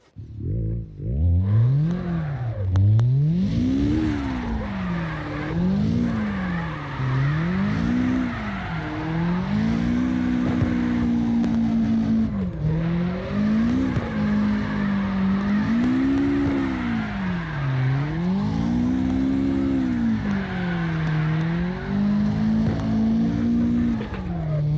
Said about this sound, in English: but I'm sliding my car, man.